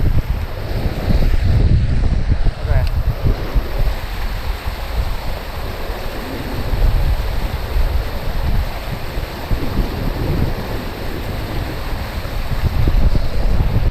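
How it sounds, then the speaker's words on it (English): A waterfall roars beside rain-swollen ponds during heavy rain, with gusty wind buffeting the microphone; the rushing wash is loud and continuous throughout, and no one speaks. "look at the waterfall over here."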